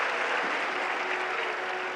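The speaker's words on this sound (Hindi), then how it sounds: "जरा तालियां बजाकर सब अभिनंदन करें।" Continuous crowd clapping from the audience at a Shiv Mahapuran katha, a steady wash of applause lasting a couple of seconds, even in level and unaccompanied by speech.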